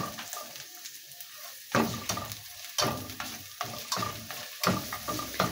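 Onions and garlic sautéing with squid in a hot pan, crackling and sizzling close up in repeated bursts as the pan is stirred, with no talk.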